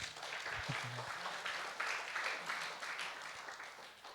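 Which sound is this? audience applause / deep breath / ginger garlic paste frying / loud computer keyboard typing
audience applause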